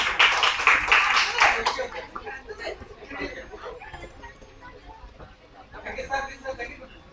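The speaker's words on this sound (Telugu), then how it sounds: "గట్టి క్లాప్స్ అండి" Audience at a birthday function clapping loudly in a brief burst that fades, with chatter and light laughter around it and a smaller round of claps near the end.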